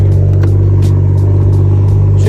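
Loud, steady low engine drone from a 2021 Toyota A90 Supra fitted with a StreetHunter wing, heard from inside during a ride, with a constant deep rumble and slight rises in revs and no talk.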